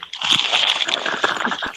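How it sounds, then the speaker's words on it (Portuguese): A sheet of paper crumpled firmly by hand, a loud, close, continuous crackling and crinkling lasting nearly two seconds, with no voice over it. "Agora vamos amassar bem essa folha."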